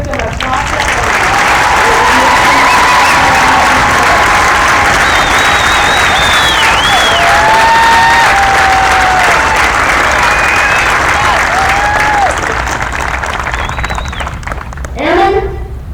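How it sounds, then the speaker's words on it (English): Loud, sustained applause at a U.S. Air Force basic military training graduation honoring the military training instructors: a large crowd claps continuously, with cheers and shrill whistles rising over it, before the noise briefly swells and cuts off near the end. "I'd like to raise a round of applause for the MTIs"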